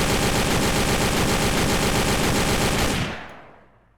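Kalashnikov rifle fire in a video game, a loud, dense burst of rapid automatic shots running continuously for about three seconds before cutting off and fading away.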